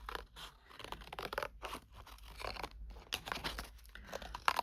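Scissors cut paper for an art journal page, a close, quiet run of repeated crisp snips and rustles with short pauses between cuts.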